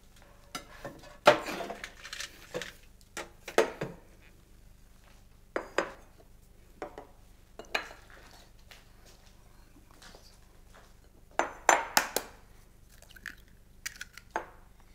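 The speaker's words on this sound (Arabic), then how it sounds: "غادي ناخذ اناء نوضعوا فيه البيض والسكر وسكر فانيلا ونخلطوهم جيدا" Quiet, scattered clinks and taps of utensils against a bowl while eggs, sugar and vanilla sugar are mixed, coming in short irregular bursts with pauses between.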